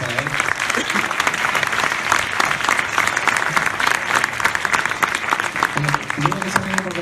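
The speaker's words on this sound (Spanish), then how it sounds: "muchas gracias, Pedro, y un aplauso para él" A live audience applauds speaker Pedro Lalanda at a Fuckup Nights event, with dense, steady clapping filling the room throughout and some crowd noise mixed in.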